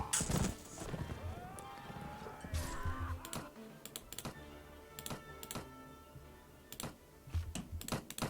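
Horse hooves clop in rapid, irregular bursts from a galloping mount in the video game Mount & Blade With Fire and Sword, fairly faint, with sharp clicks scattered over a low background.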